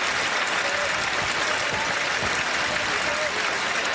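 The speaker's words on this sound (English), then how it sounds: "As applause begins" A CFL football stadium crowd at Hamilton applauds steadily for an injured player, a broad continuous roar of clapping with a commentator's voice faintly underneath.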